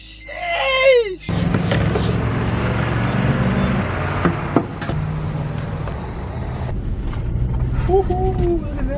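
Tesla Model 3 electric car running up close, a steady low hum that fills most of the clip, briefly opened by a high whooping voice, with people talking over it.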